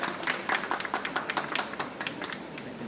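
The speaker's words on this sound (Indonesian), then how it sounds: "Tepuk tangannya dong Bapak Ibu." Audience applause at an evening event, a steady patter of many hands clapping at moderate distance, fairly soft, with no one speaking over it.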